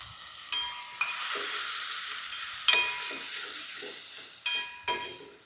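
A tomato frying in a pan with turmeric and ginger-garlic paste for a spicy chicken shorba: a steady close sizzle broken by sharp scraping stirs, with no talking.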